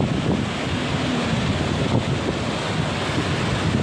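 Surf rolls in on Patong Beach as a constant broadband wash of waves, close and loud, with wind buffeting the microphone.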